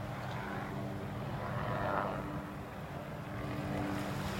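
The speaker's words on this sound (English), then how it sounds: "Sounds like one of the helicopters they use for spraying for mosquitoes." A steady low engine drone from a mosquito-spraying helicopter passing at a distance over a beach holds throughout with a slight swell in the middle and no talking.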